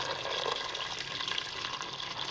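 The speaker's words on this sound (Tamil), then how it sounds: "இப்போ தண்ணி சேர்த்துக்கலாங்க." Water pours steadily into a pot of chicken biryani, a continuous close splashing flow lasting a couple of seconds with no talking.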